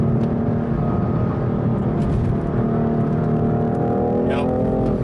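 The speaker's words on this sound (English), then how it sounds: "Yeah, it really pops at the higher RPMs." Engine of a 2018 BMW M3 heard from inside the cabin, a steady loud drone with harmonic tones rising near the end as revs climb, continuous throughout.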